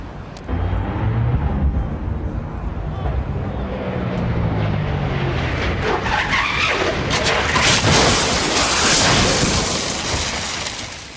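A loud, sustained roar of an NHRA drag racing funny car engine blowing up, with tire screech and rushing noise, building and churning as the car careens and pulls left.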